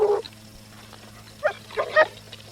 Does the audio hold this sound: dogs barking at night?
yes